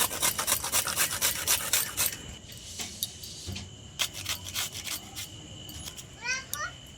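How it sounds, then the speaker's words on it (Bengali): Peeled pointed gourd (potol) being rubbed on a grater for kofta, giving a steady series of close rasping strokes for about two seconds, then sparser scrapes and small clatters with faint high chirps near the end. "আমরা পটলগুলো ঘষে নেব।"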